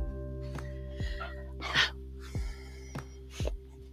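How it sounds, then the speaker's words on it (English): A talkative pet dog whimpers indoors, giving a series of brief, faint whines and yips spaced a second or so apart over a steady electrical hum. "She's a very talky dog"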